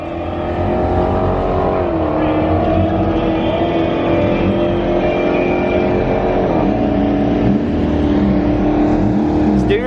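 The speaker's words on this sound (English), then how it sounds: "Got that burnout." A truck doing a burnout at a racetrack, its engine roaring loud and steady with rising and falling revs throughout, close by, with faint talk underneath.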